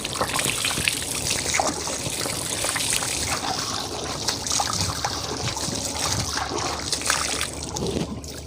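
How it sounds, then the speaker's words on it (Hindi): Tap water trickling steadily while hands and forearms up to the elbows are washed for wudu, a continuous close splashing flow with no talking. "इस तरीके से आपने 3 मरतबा अपने दोनों हाथों को कोनियों समेत धो लेना है।"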